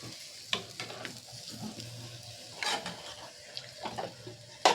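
Water poured into a pan of frying potatoes coated in poppy-seed paste, raising a few bursts of hiss and bubbling with scattered clinks of a spoon against the pan over a low sizzle.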